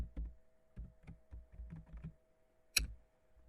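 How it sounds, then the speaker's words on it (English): Keys tapped on a computer keyboard while a search query goes into a browser, quiet irregular clicks in short bursts with one sharper, louder keystroke near the end, no talking. "type what is AutoCAD."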